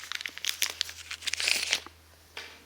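A plastic parts bag from an RC loader kit is cut and torn open up close, giving a burst of crinkling and tearing that ends in a brief rustle after a pause.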